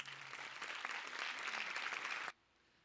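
A large audience at a 70th anniversary celebration applauds warmly in a dense, steady wash of clapping that ends abruptly, leaving near silence.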